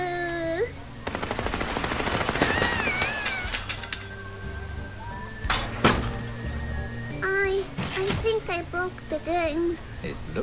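Rapid gunfire from real bullets in the Little Misfortune video game, bursts of shots over game music and effects, with someone talking over the action.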